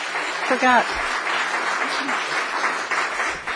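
Audience clapping at a city council meeting, a steady wash of applause across the clip with a brief voice near the start.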